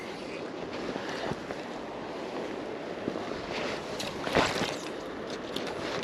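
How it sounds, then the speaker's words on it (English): Steady wind gusting along the bank of the River Dee in Scotland during summer salmon fishing, a constant broadband rush with small bumps of microphone buffeting, no voices. "I think the wind's really bugging me up here."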